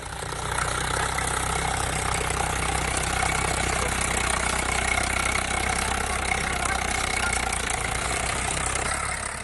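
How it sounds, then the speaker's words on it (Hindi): A tractor engine runs steadily over a standing cabbage crop in a farm field in Samastipur, Bihar, a continuous near, moderately loud idling-to-working drone with no talk. "किसान अपने ही खेत में अपनी ही फसल पर ट्रैक्टर चलाकर उसे बर्बाद कर रहा है"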